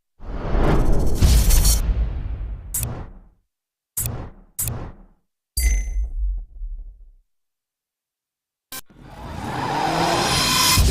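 Subaru Impreza WRX STI N13 rally car in the DiRT 3 video game: a loud engine roar with a whooshing pass, then sharp clanging hits separated by silences, before the engine surges again near the end.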